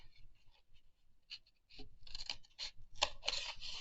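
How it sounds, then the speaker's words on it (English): Scissors snip and scrape through cardboard at close range, a quiet irregular series of crisp cuts that grows denser and louder toward the end, with no talking. "So then I take some scissors."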